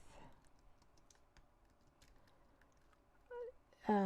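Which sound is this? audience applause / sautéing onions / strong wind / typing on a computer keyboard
typing on a computer keyboard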